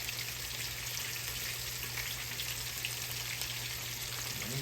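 A whole perch fries in hot oil, giving a continuous close hiss and crackle of sizzling fat, even and unbroken.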